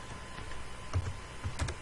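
Soft keystrokes on a computer keyboard while entering spreadsheet data, a handful of light, uneven taps over a low steady background hiss.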